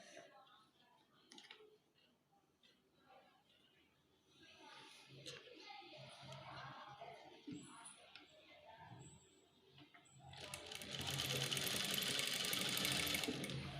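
Sewing machine stitching along the folded edge of a cloth face mask, with bursts of fast mechanical whirring that grow louder and steadier toward the end, while faint voices and household sounds sit in the background.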